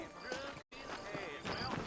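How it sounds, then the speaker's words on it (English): Horse hooves clip-clop in the Red Dead Redemption video game set in New Orleans, a rhythmic patter of hoofbeats with a brief dropout of silence, under faint game ambience. "You ain't gonna find sturdier horses than these in all of New Orleans."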